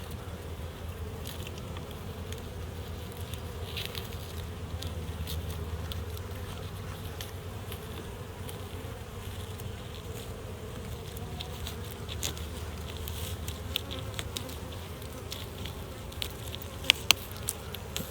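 Honey bees buzz steadily at an opened hive in winter, a low, even drone holding through the whole stretch, moderately quiet and close, with a few faint clicks near the end.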